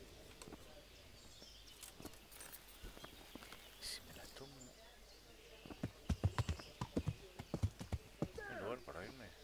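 Horse hooves clip-clop in the video game Kingdom Come: Deliverance, an uneven run of sharp knocks that grow louder midway, with faint birdsong in the background and no clear talking.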